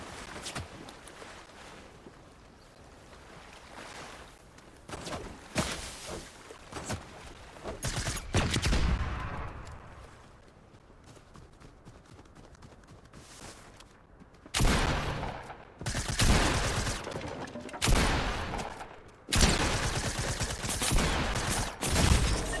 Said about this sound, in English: Yeah, we got shot by that guy.